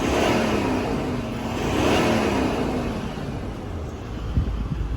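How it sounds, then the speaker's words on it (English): A 2018 Toyota 200 Series LandCruiser Sahara revved from inside the cabin, the engine note swelling to a peak and then easing back to a steady idle, loud and close. "I'm going to give the car a bit of a rev so you can hear it."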